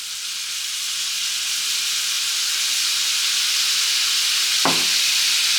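Steady, close sizzling of pink salmon frying in a hot pan, a constant bright hiss with one brief clink near the end.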